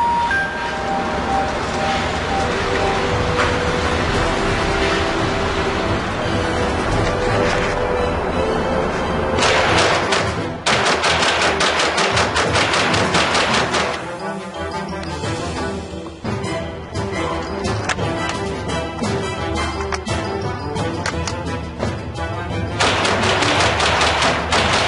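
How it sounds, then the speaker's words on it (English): Ruger 10/22 .22 LR rifle with a 25-round magazine fired rapidly, loud sharp shots in fast bursts separated by brief pauses, with metallic clinks between strings. "we are going to shoot the hell out of this terrorist here"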